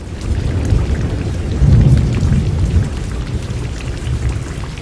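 Heavy rain pours steadily across Telangana and Andhra Pradesh, with deep thunder rumbling beneath it that swells to a louder roll near the middle. No voices are heard.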